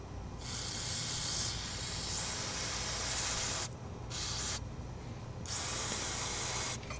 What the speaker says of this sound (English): we're going to take some brake parts cleaner and we're going to clean the caliper carrier